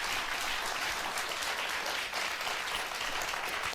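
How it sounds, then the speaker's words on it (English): A show audience claps in continuous, dense applause, steady and loud throughout with no talk over it. "They're clapping with a straight face."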